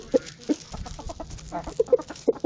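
Hens cluck in short, scattered bursts close by while pecking at corn, with soft pecking and rustling underneath and no talking.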